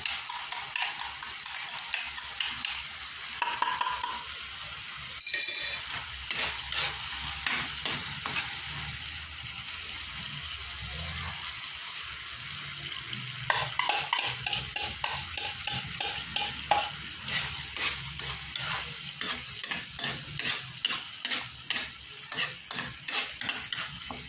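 Eggs and tomato fry in a pan under a long, steady sizzle, as a utensil scrapes and taps against the metal, first in scattered strokes and then in fast, rhythmic stirring.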